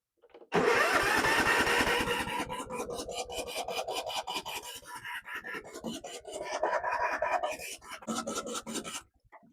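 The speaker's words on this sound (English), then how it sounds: "Starter don't sound too happy." The starter of a Tecumseh 17.5 hp engine on a Yardworks ride-on mower cranks repeatedly with a rasping, rhythmic churn, laboring in uneven bursts without catching.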